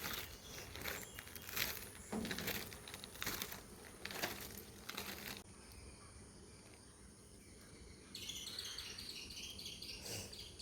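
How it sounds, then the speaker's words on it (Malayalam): Crows caw and small birds chirp and sing in a village outdoors, faint and distant over a hissy background with insect-like buzzing and scattered rustles. "കാക്കകളുടെ കരച്ചിലും കിളികളുടെ ശബ്ദവും എന്ത് ഭംഗിയാണല്ലേ"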